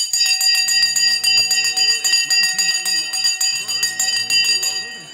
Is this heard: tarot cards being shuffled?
no